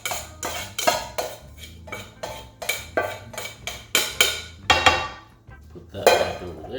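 A small spatula clinking and scraping repeatedly against a metal pan as rice is added, loud rhythmic metallic taps close up, about a dozen strikes in an uneven beat, with no talking over them.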